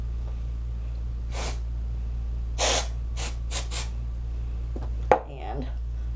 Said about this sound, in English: So I just kind of spray it on underneath everything.